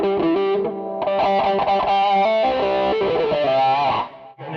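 Electric guitar played through an effects pedal that changes its tone, dense distorted chords strummed in a steady rhythm, loud and close, then cutting off abruptly near the end.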